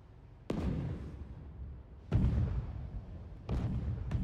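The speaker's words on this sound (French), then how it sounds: "C'est pas la saison des feux d'artifice?" Fireworks explode in the Spider-Man 2 video game, three separate booming bursts spaced a second or more apart, each fading into a rumbling tail, moderately distant and with no talk.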